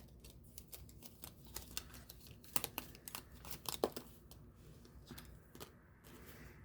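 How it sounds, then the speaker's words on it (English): A deck of playing cards used for a tabletop baseball game gets shuffled, giving quiet, rapid papery flicks and snaps in clustered bursts over several seconds, close and faint, with no talking. "So I'm going to shuffle these up again."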